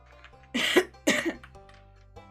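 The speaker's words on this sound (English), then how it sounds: "my cough is like, we're not gonna let you rest today." Two harsh, close coughs come in quick succession, each with a raspy throat-clearing quality, followed by a faint third sound in an otherwise quiet room.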